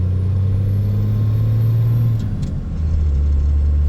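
A loud, close diesel engine of a 2nd-gen Cummins pickup truck drones steadily, its pitch climbing as it accelerates and boosts, then briefly dips before rumbling on.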